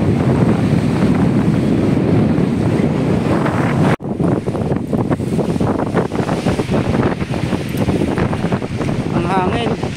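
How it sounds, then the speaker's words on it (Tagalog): Strong wind buffets the microphone on a lake near a sunken church, a loud roaring rumble that barely lets up, with water and boat sounds underneath and a voice speaking briefly. "Ang hangin."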